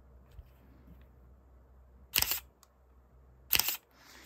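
Mechanical shutter of a DSLR camera firing twice, each a sharp close clack with a brief rattling tail, spaced about a second and a half apart in an otherwise quiet room.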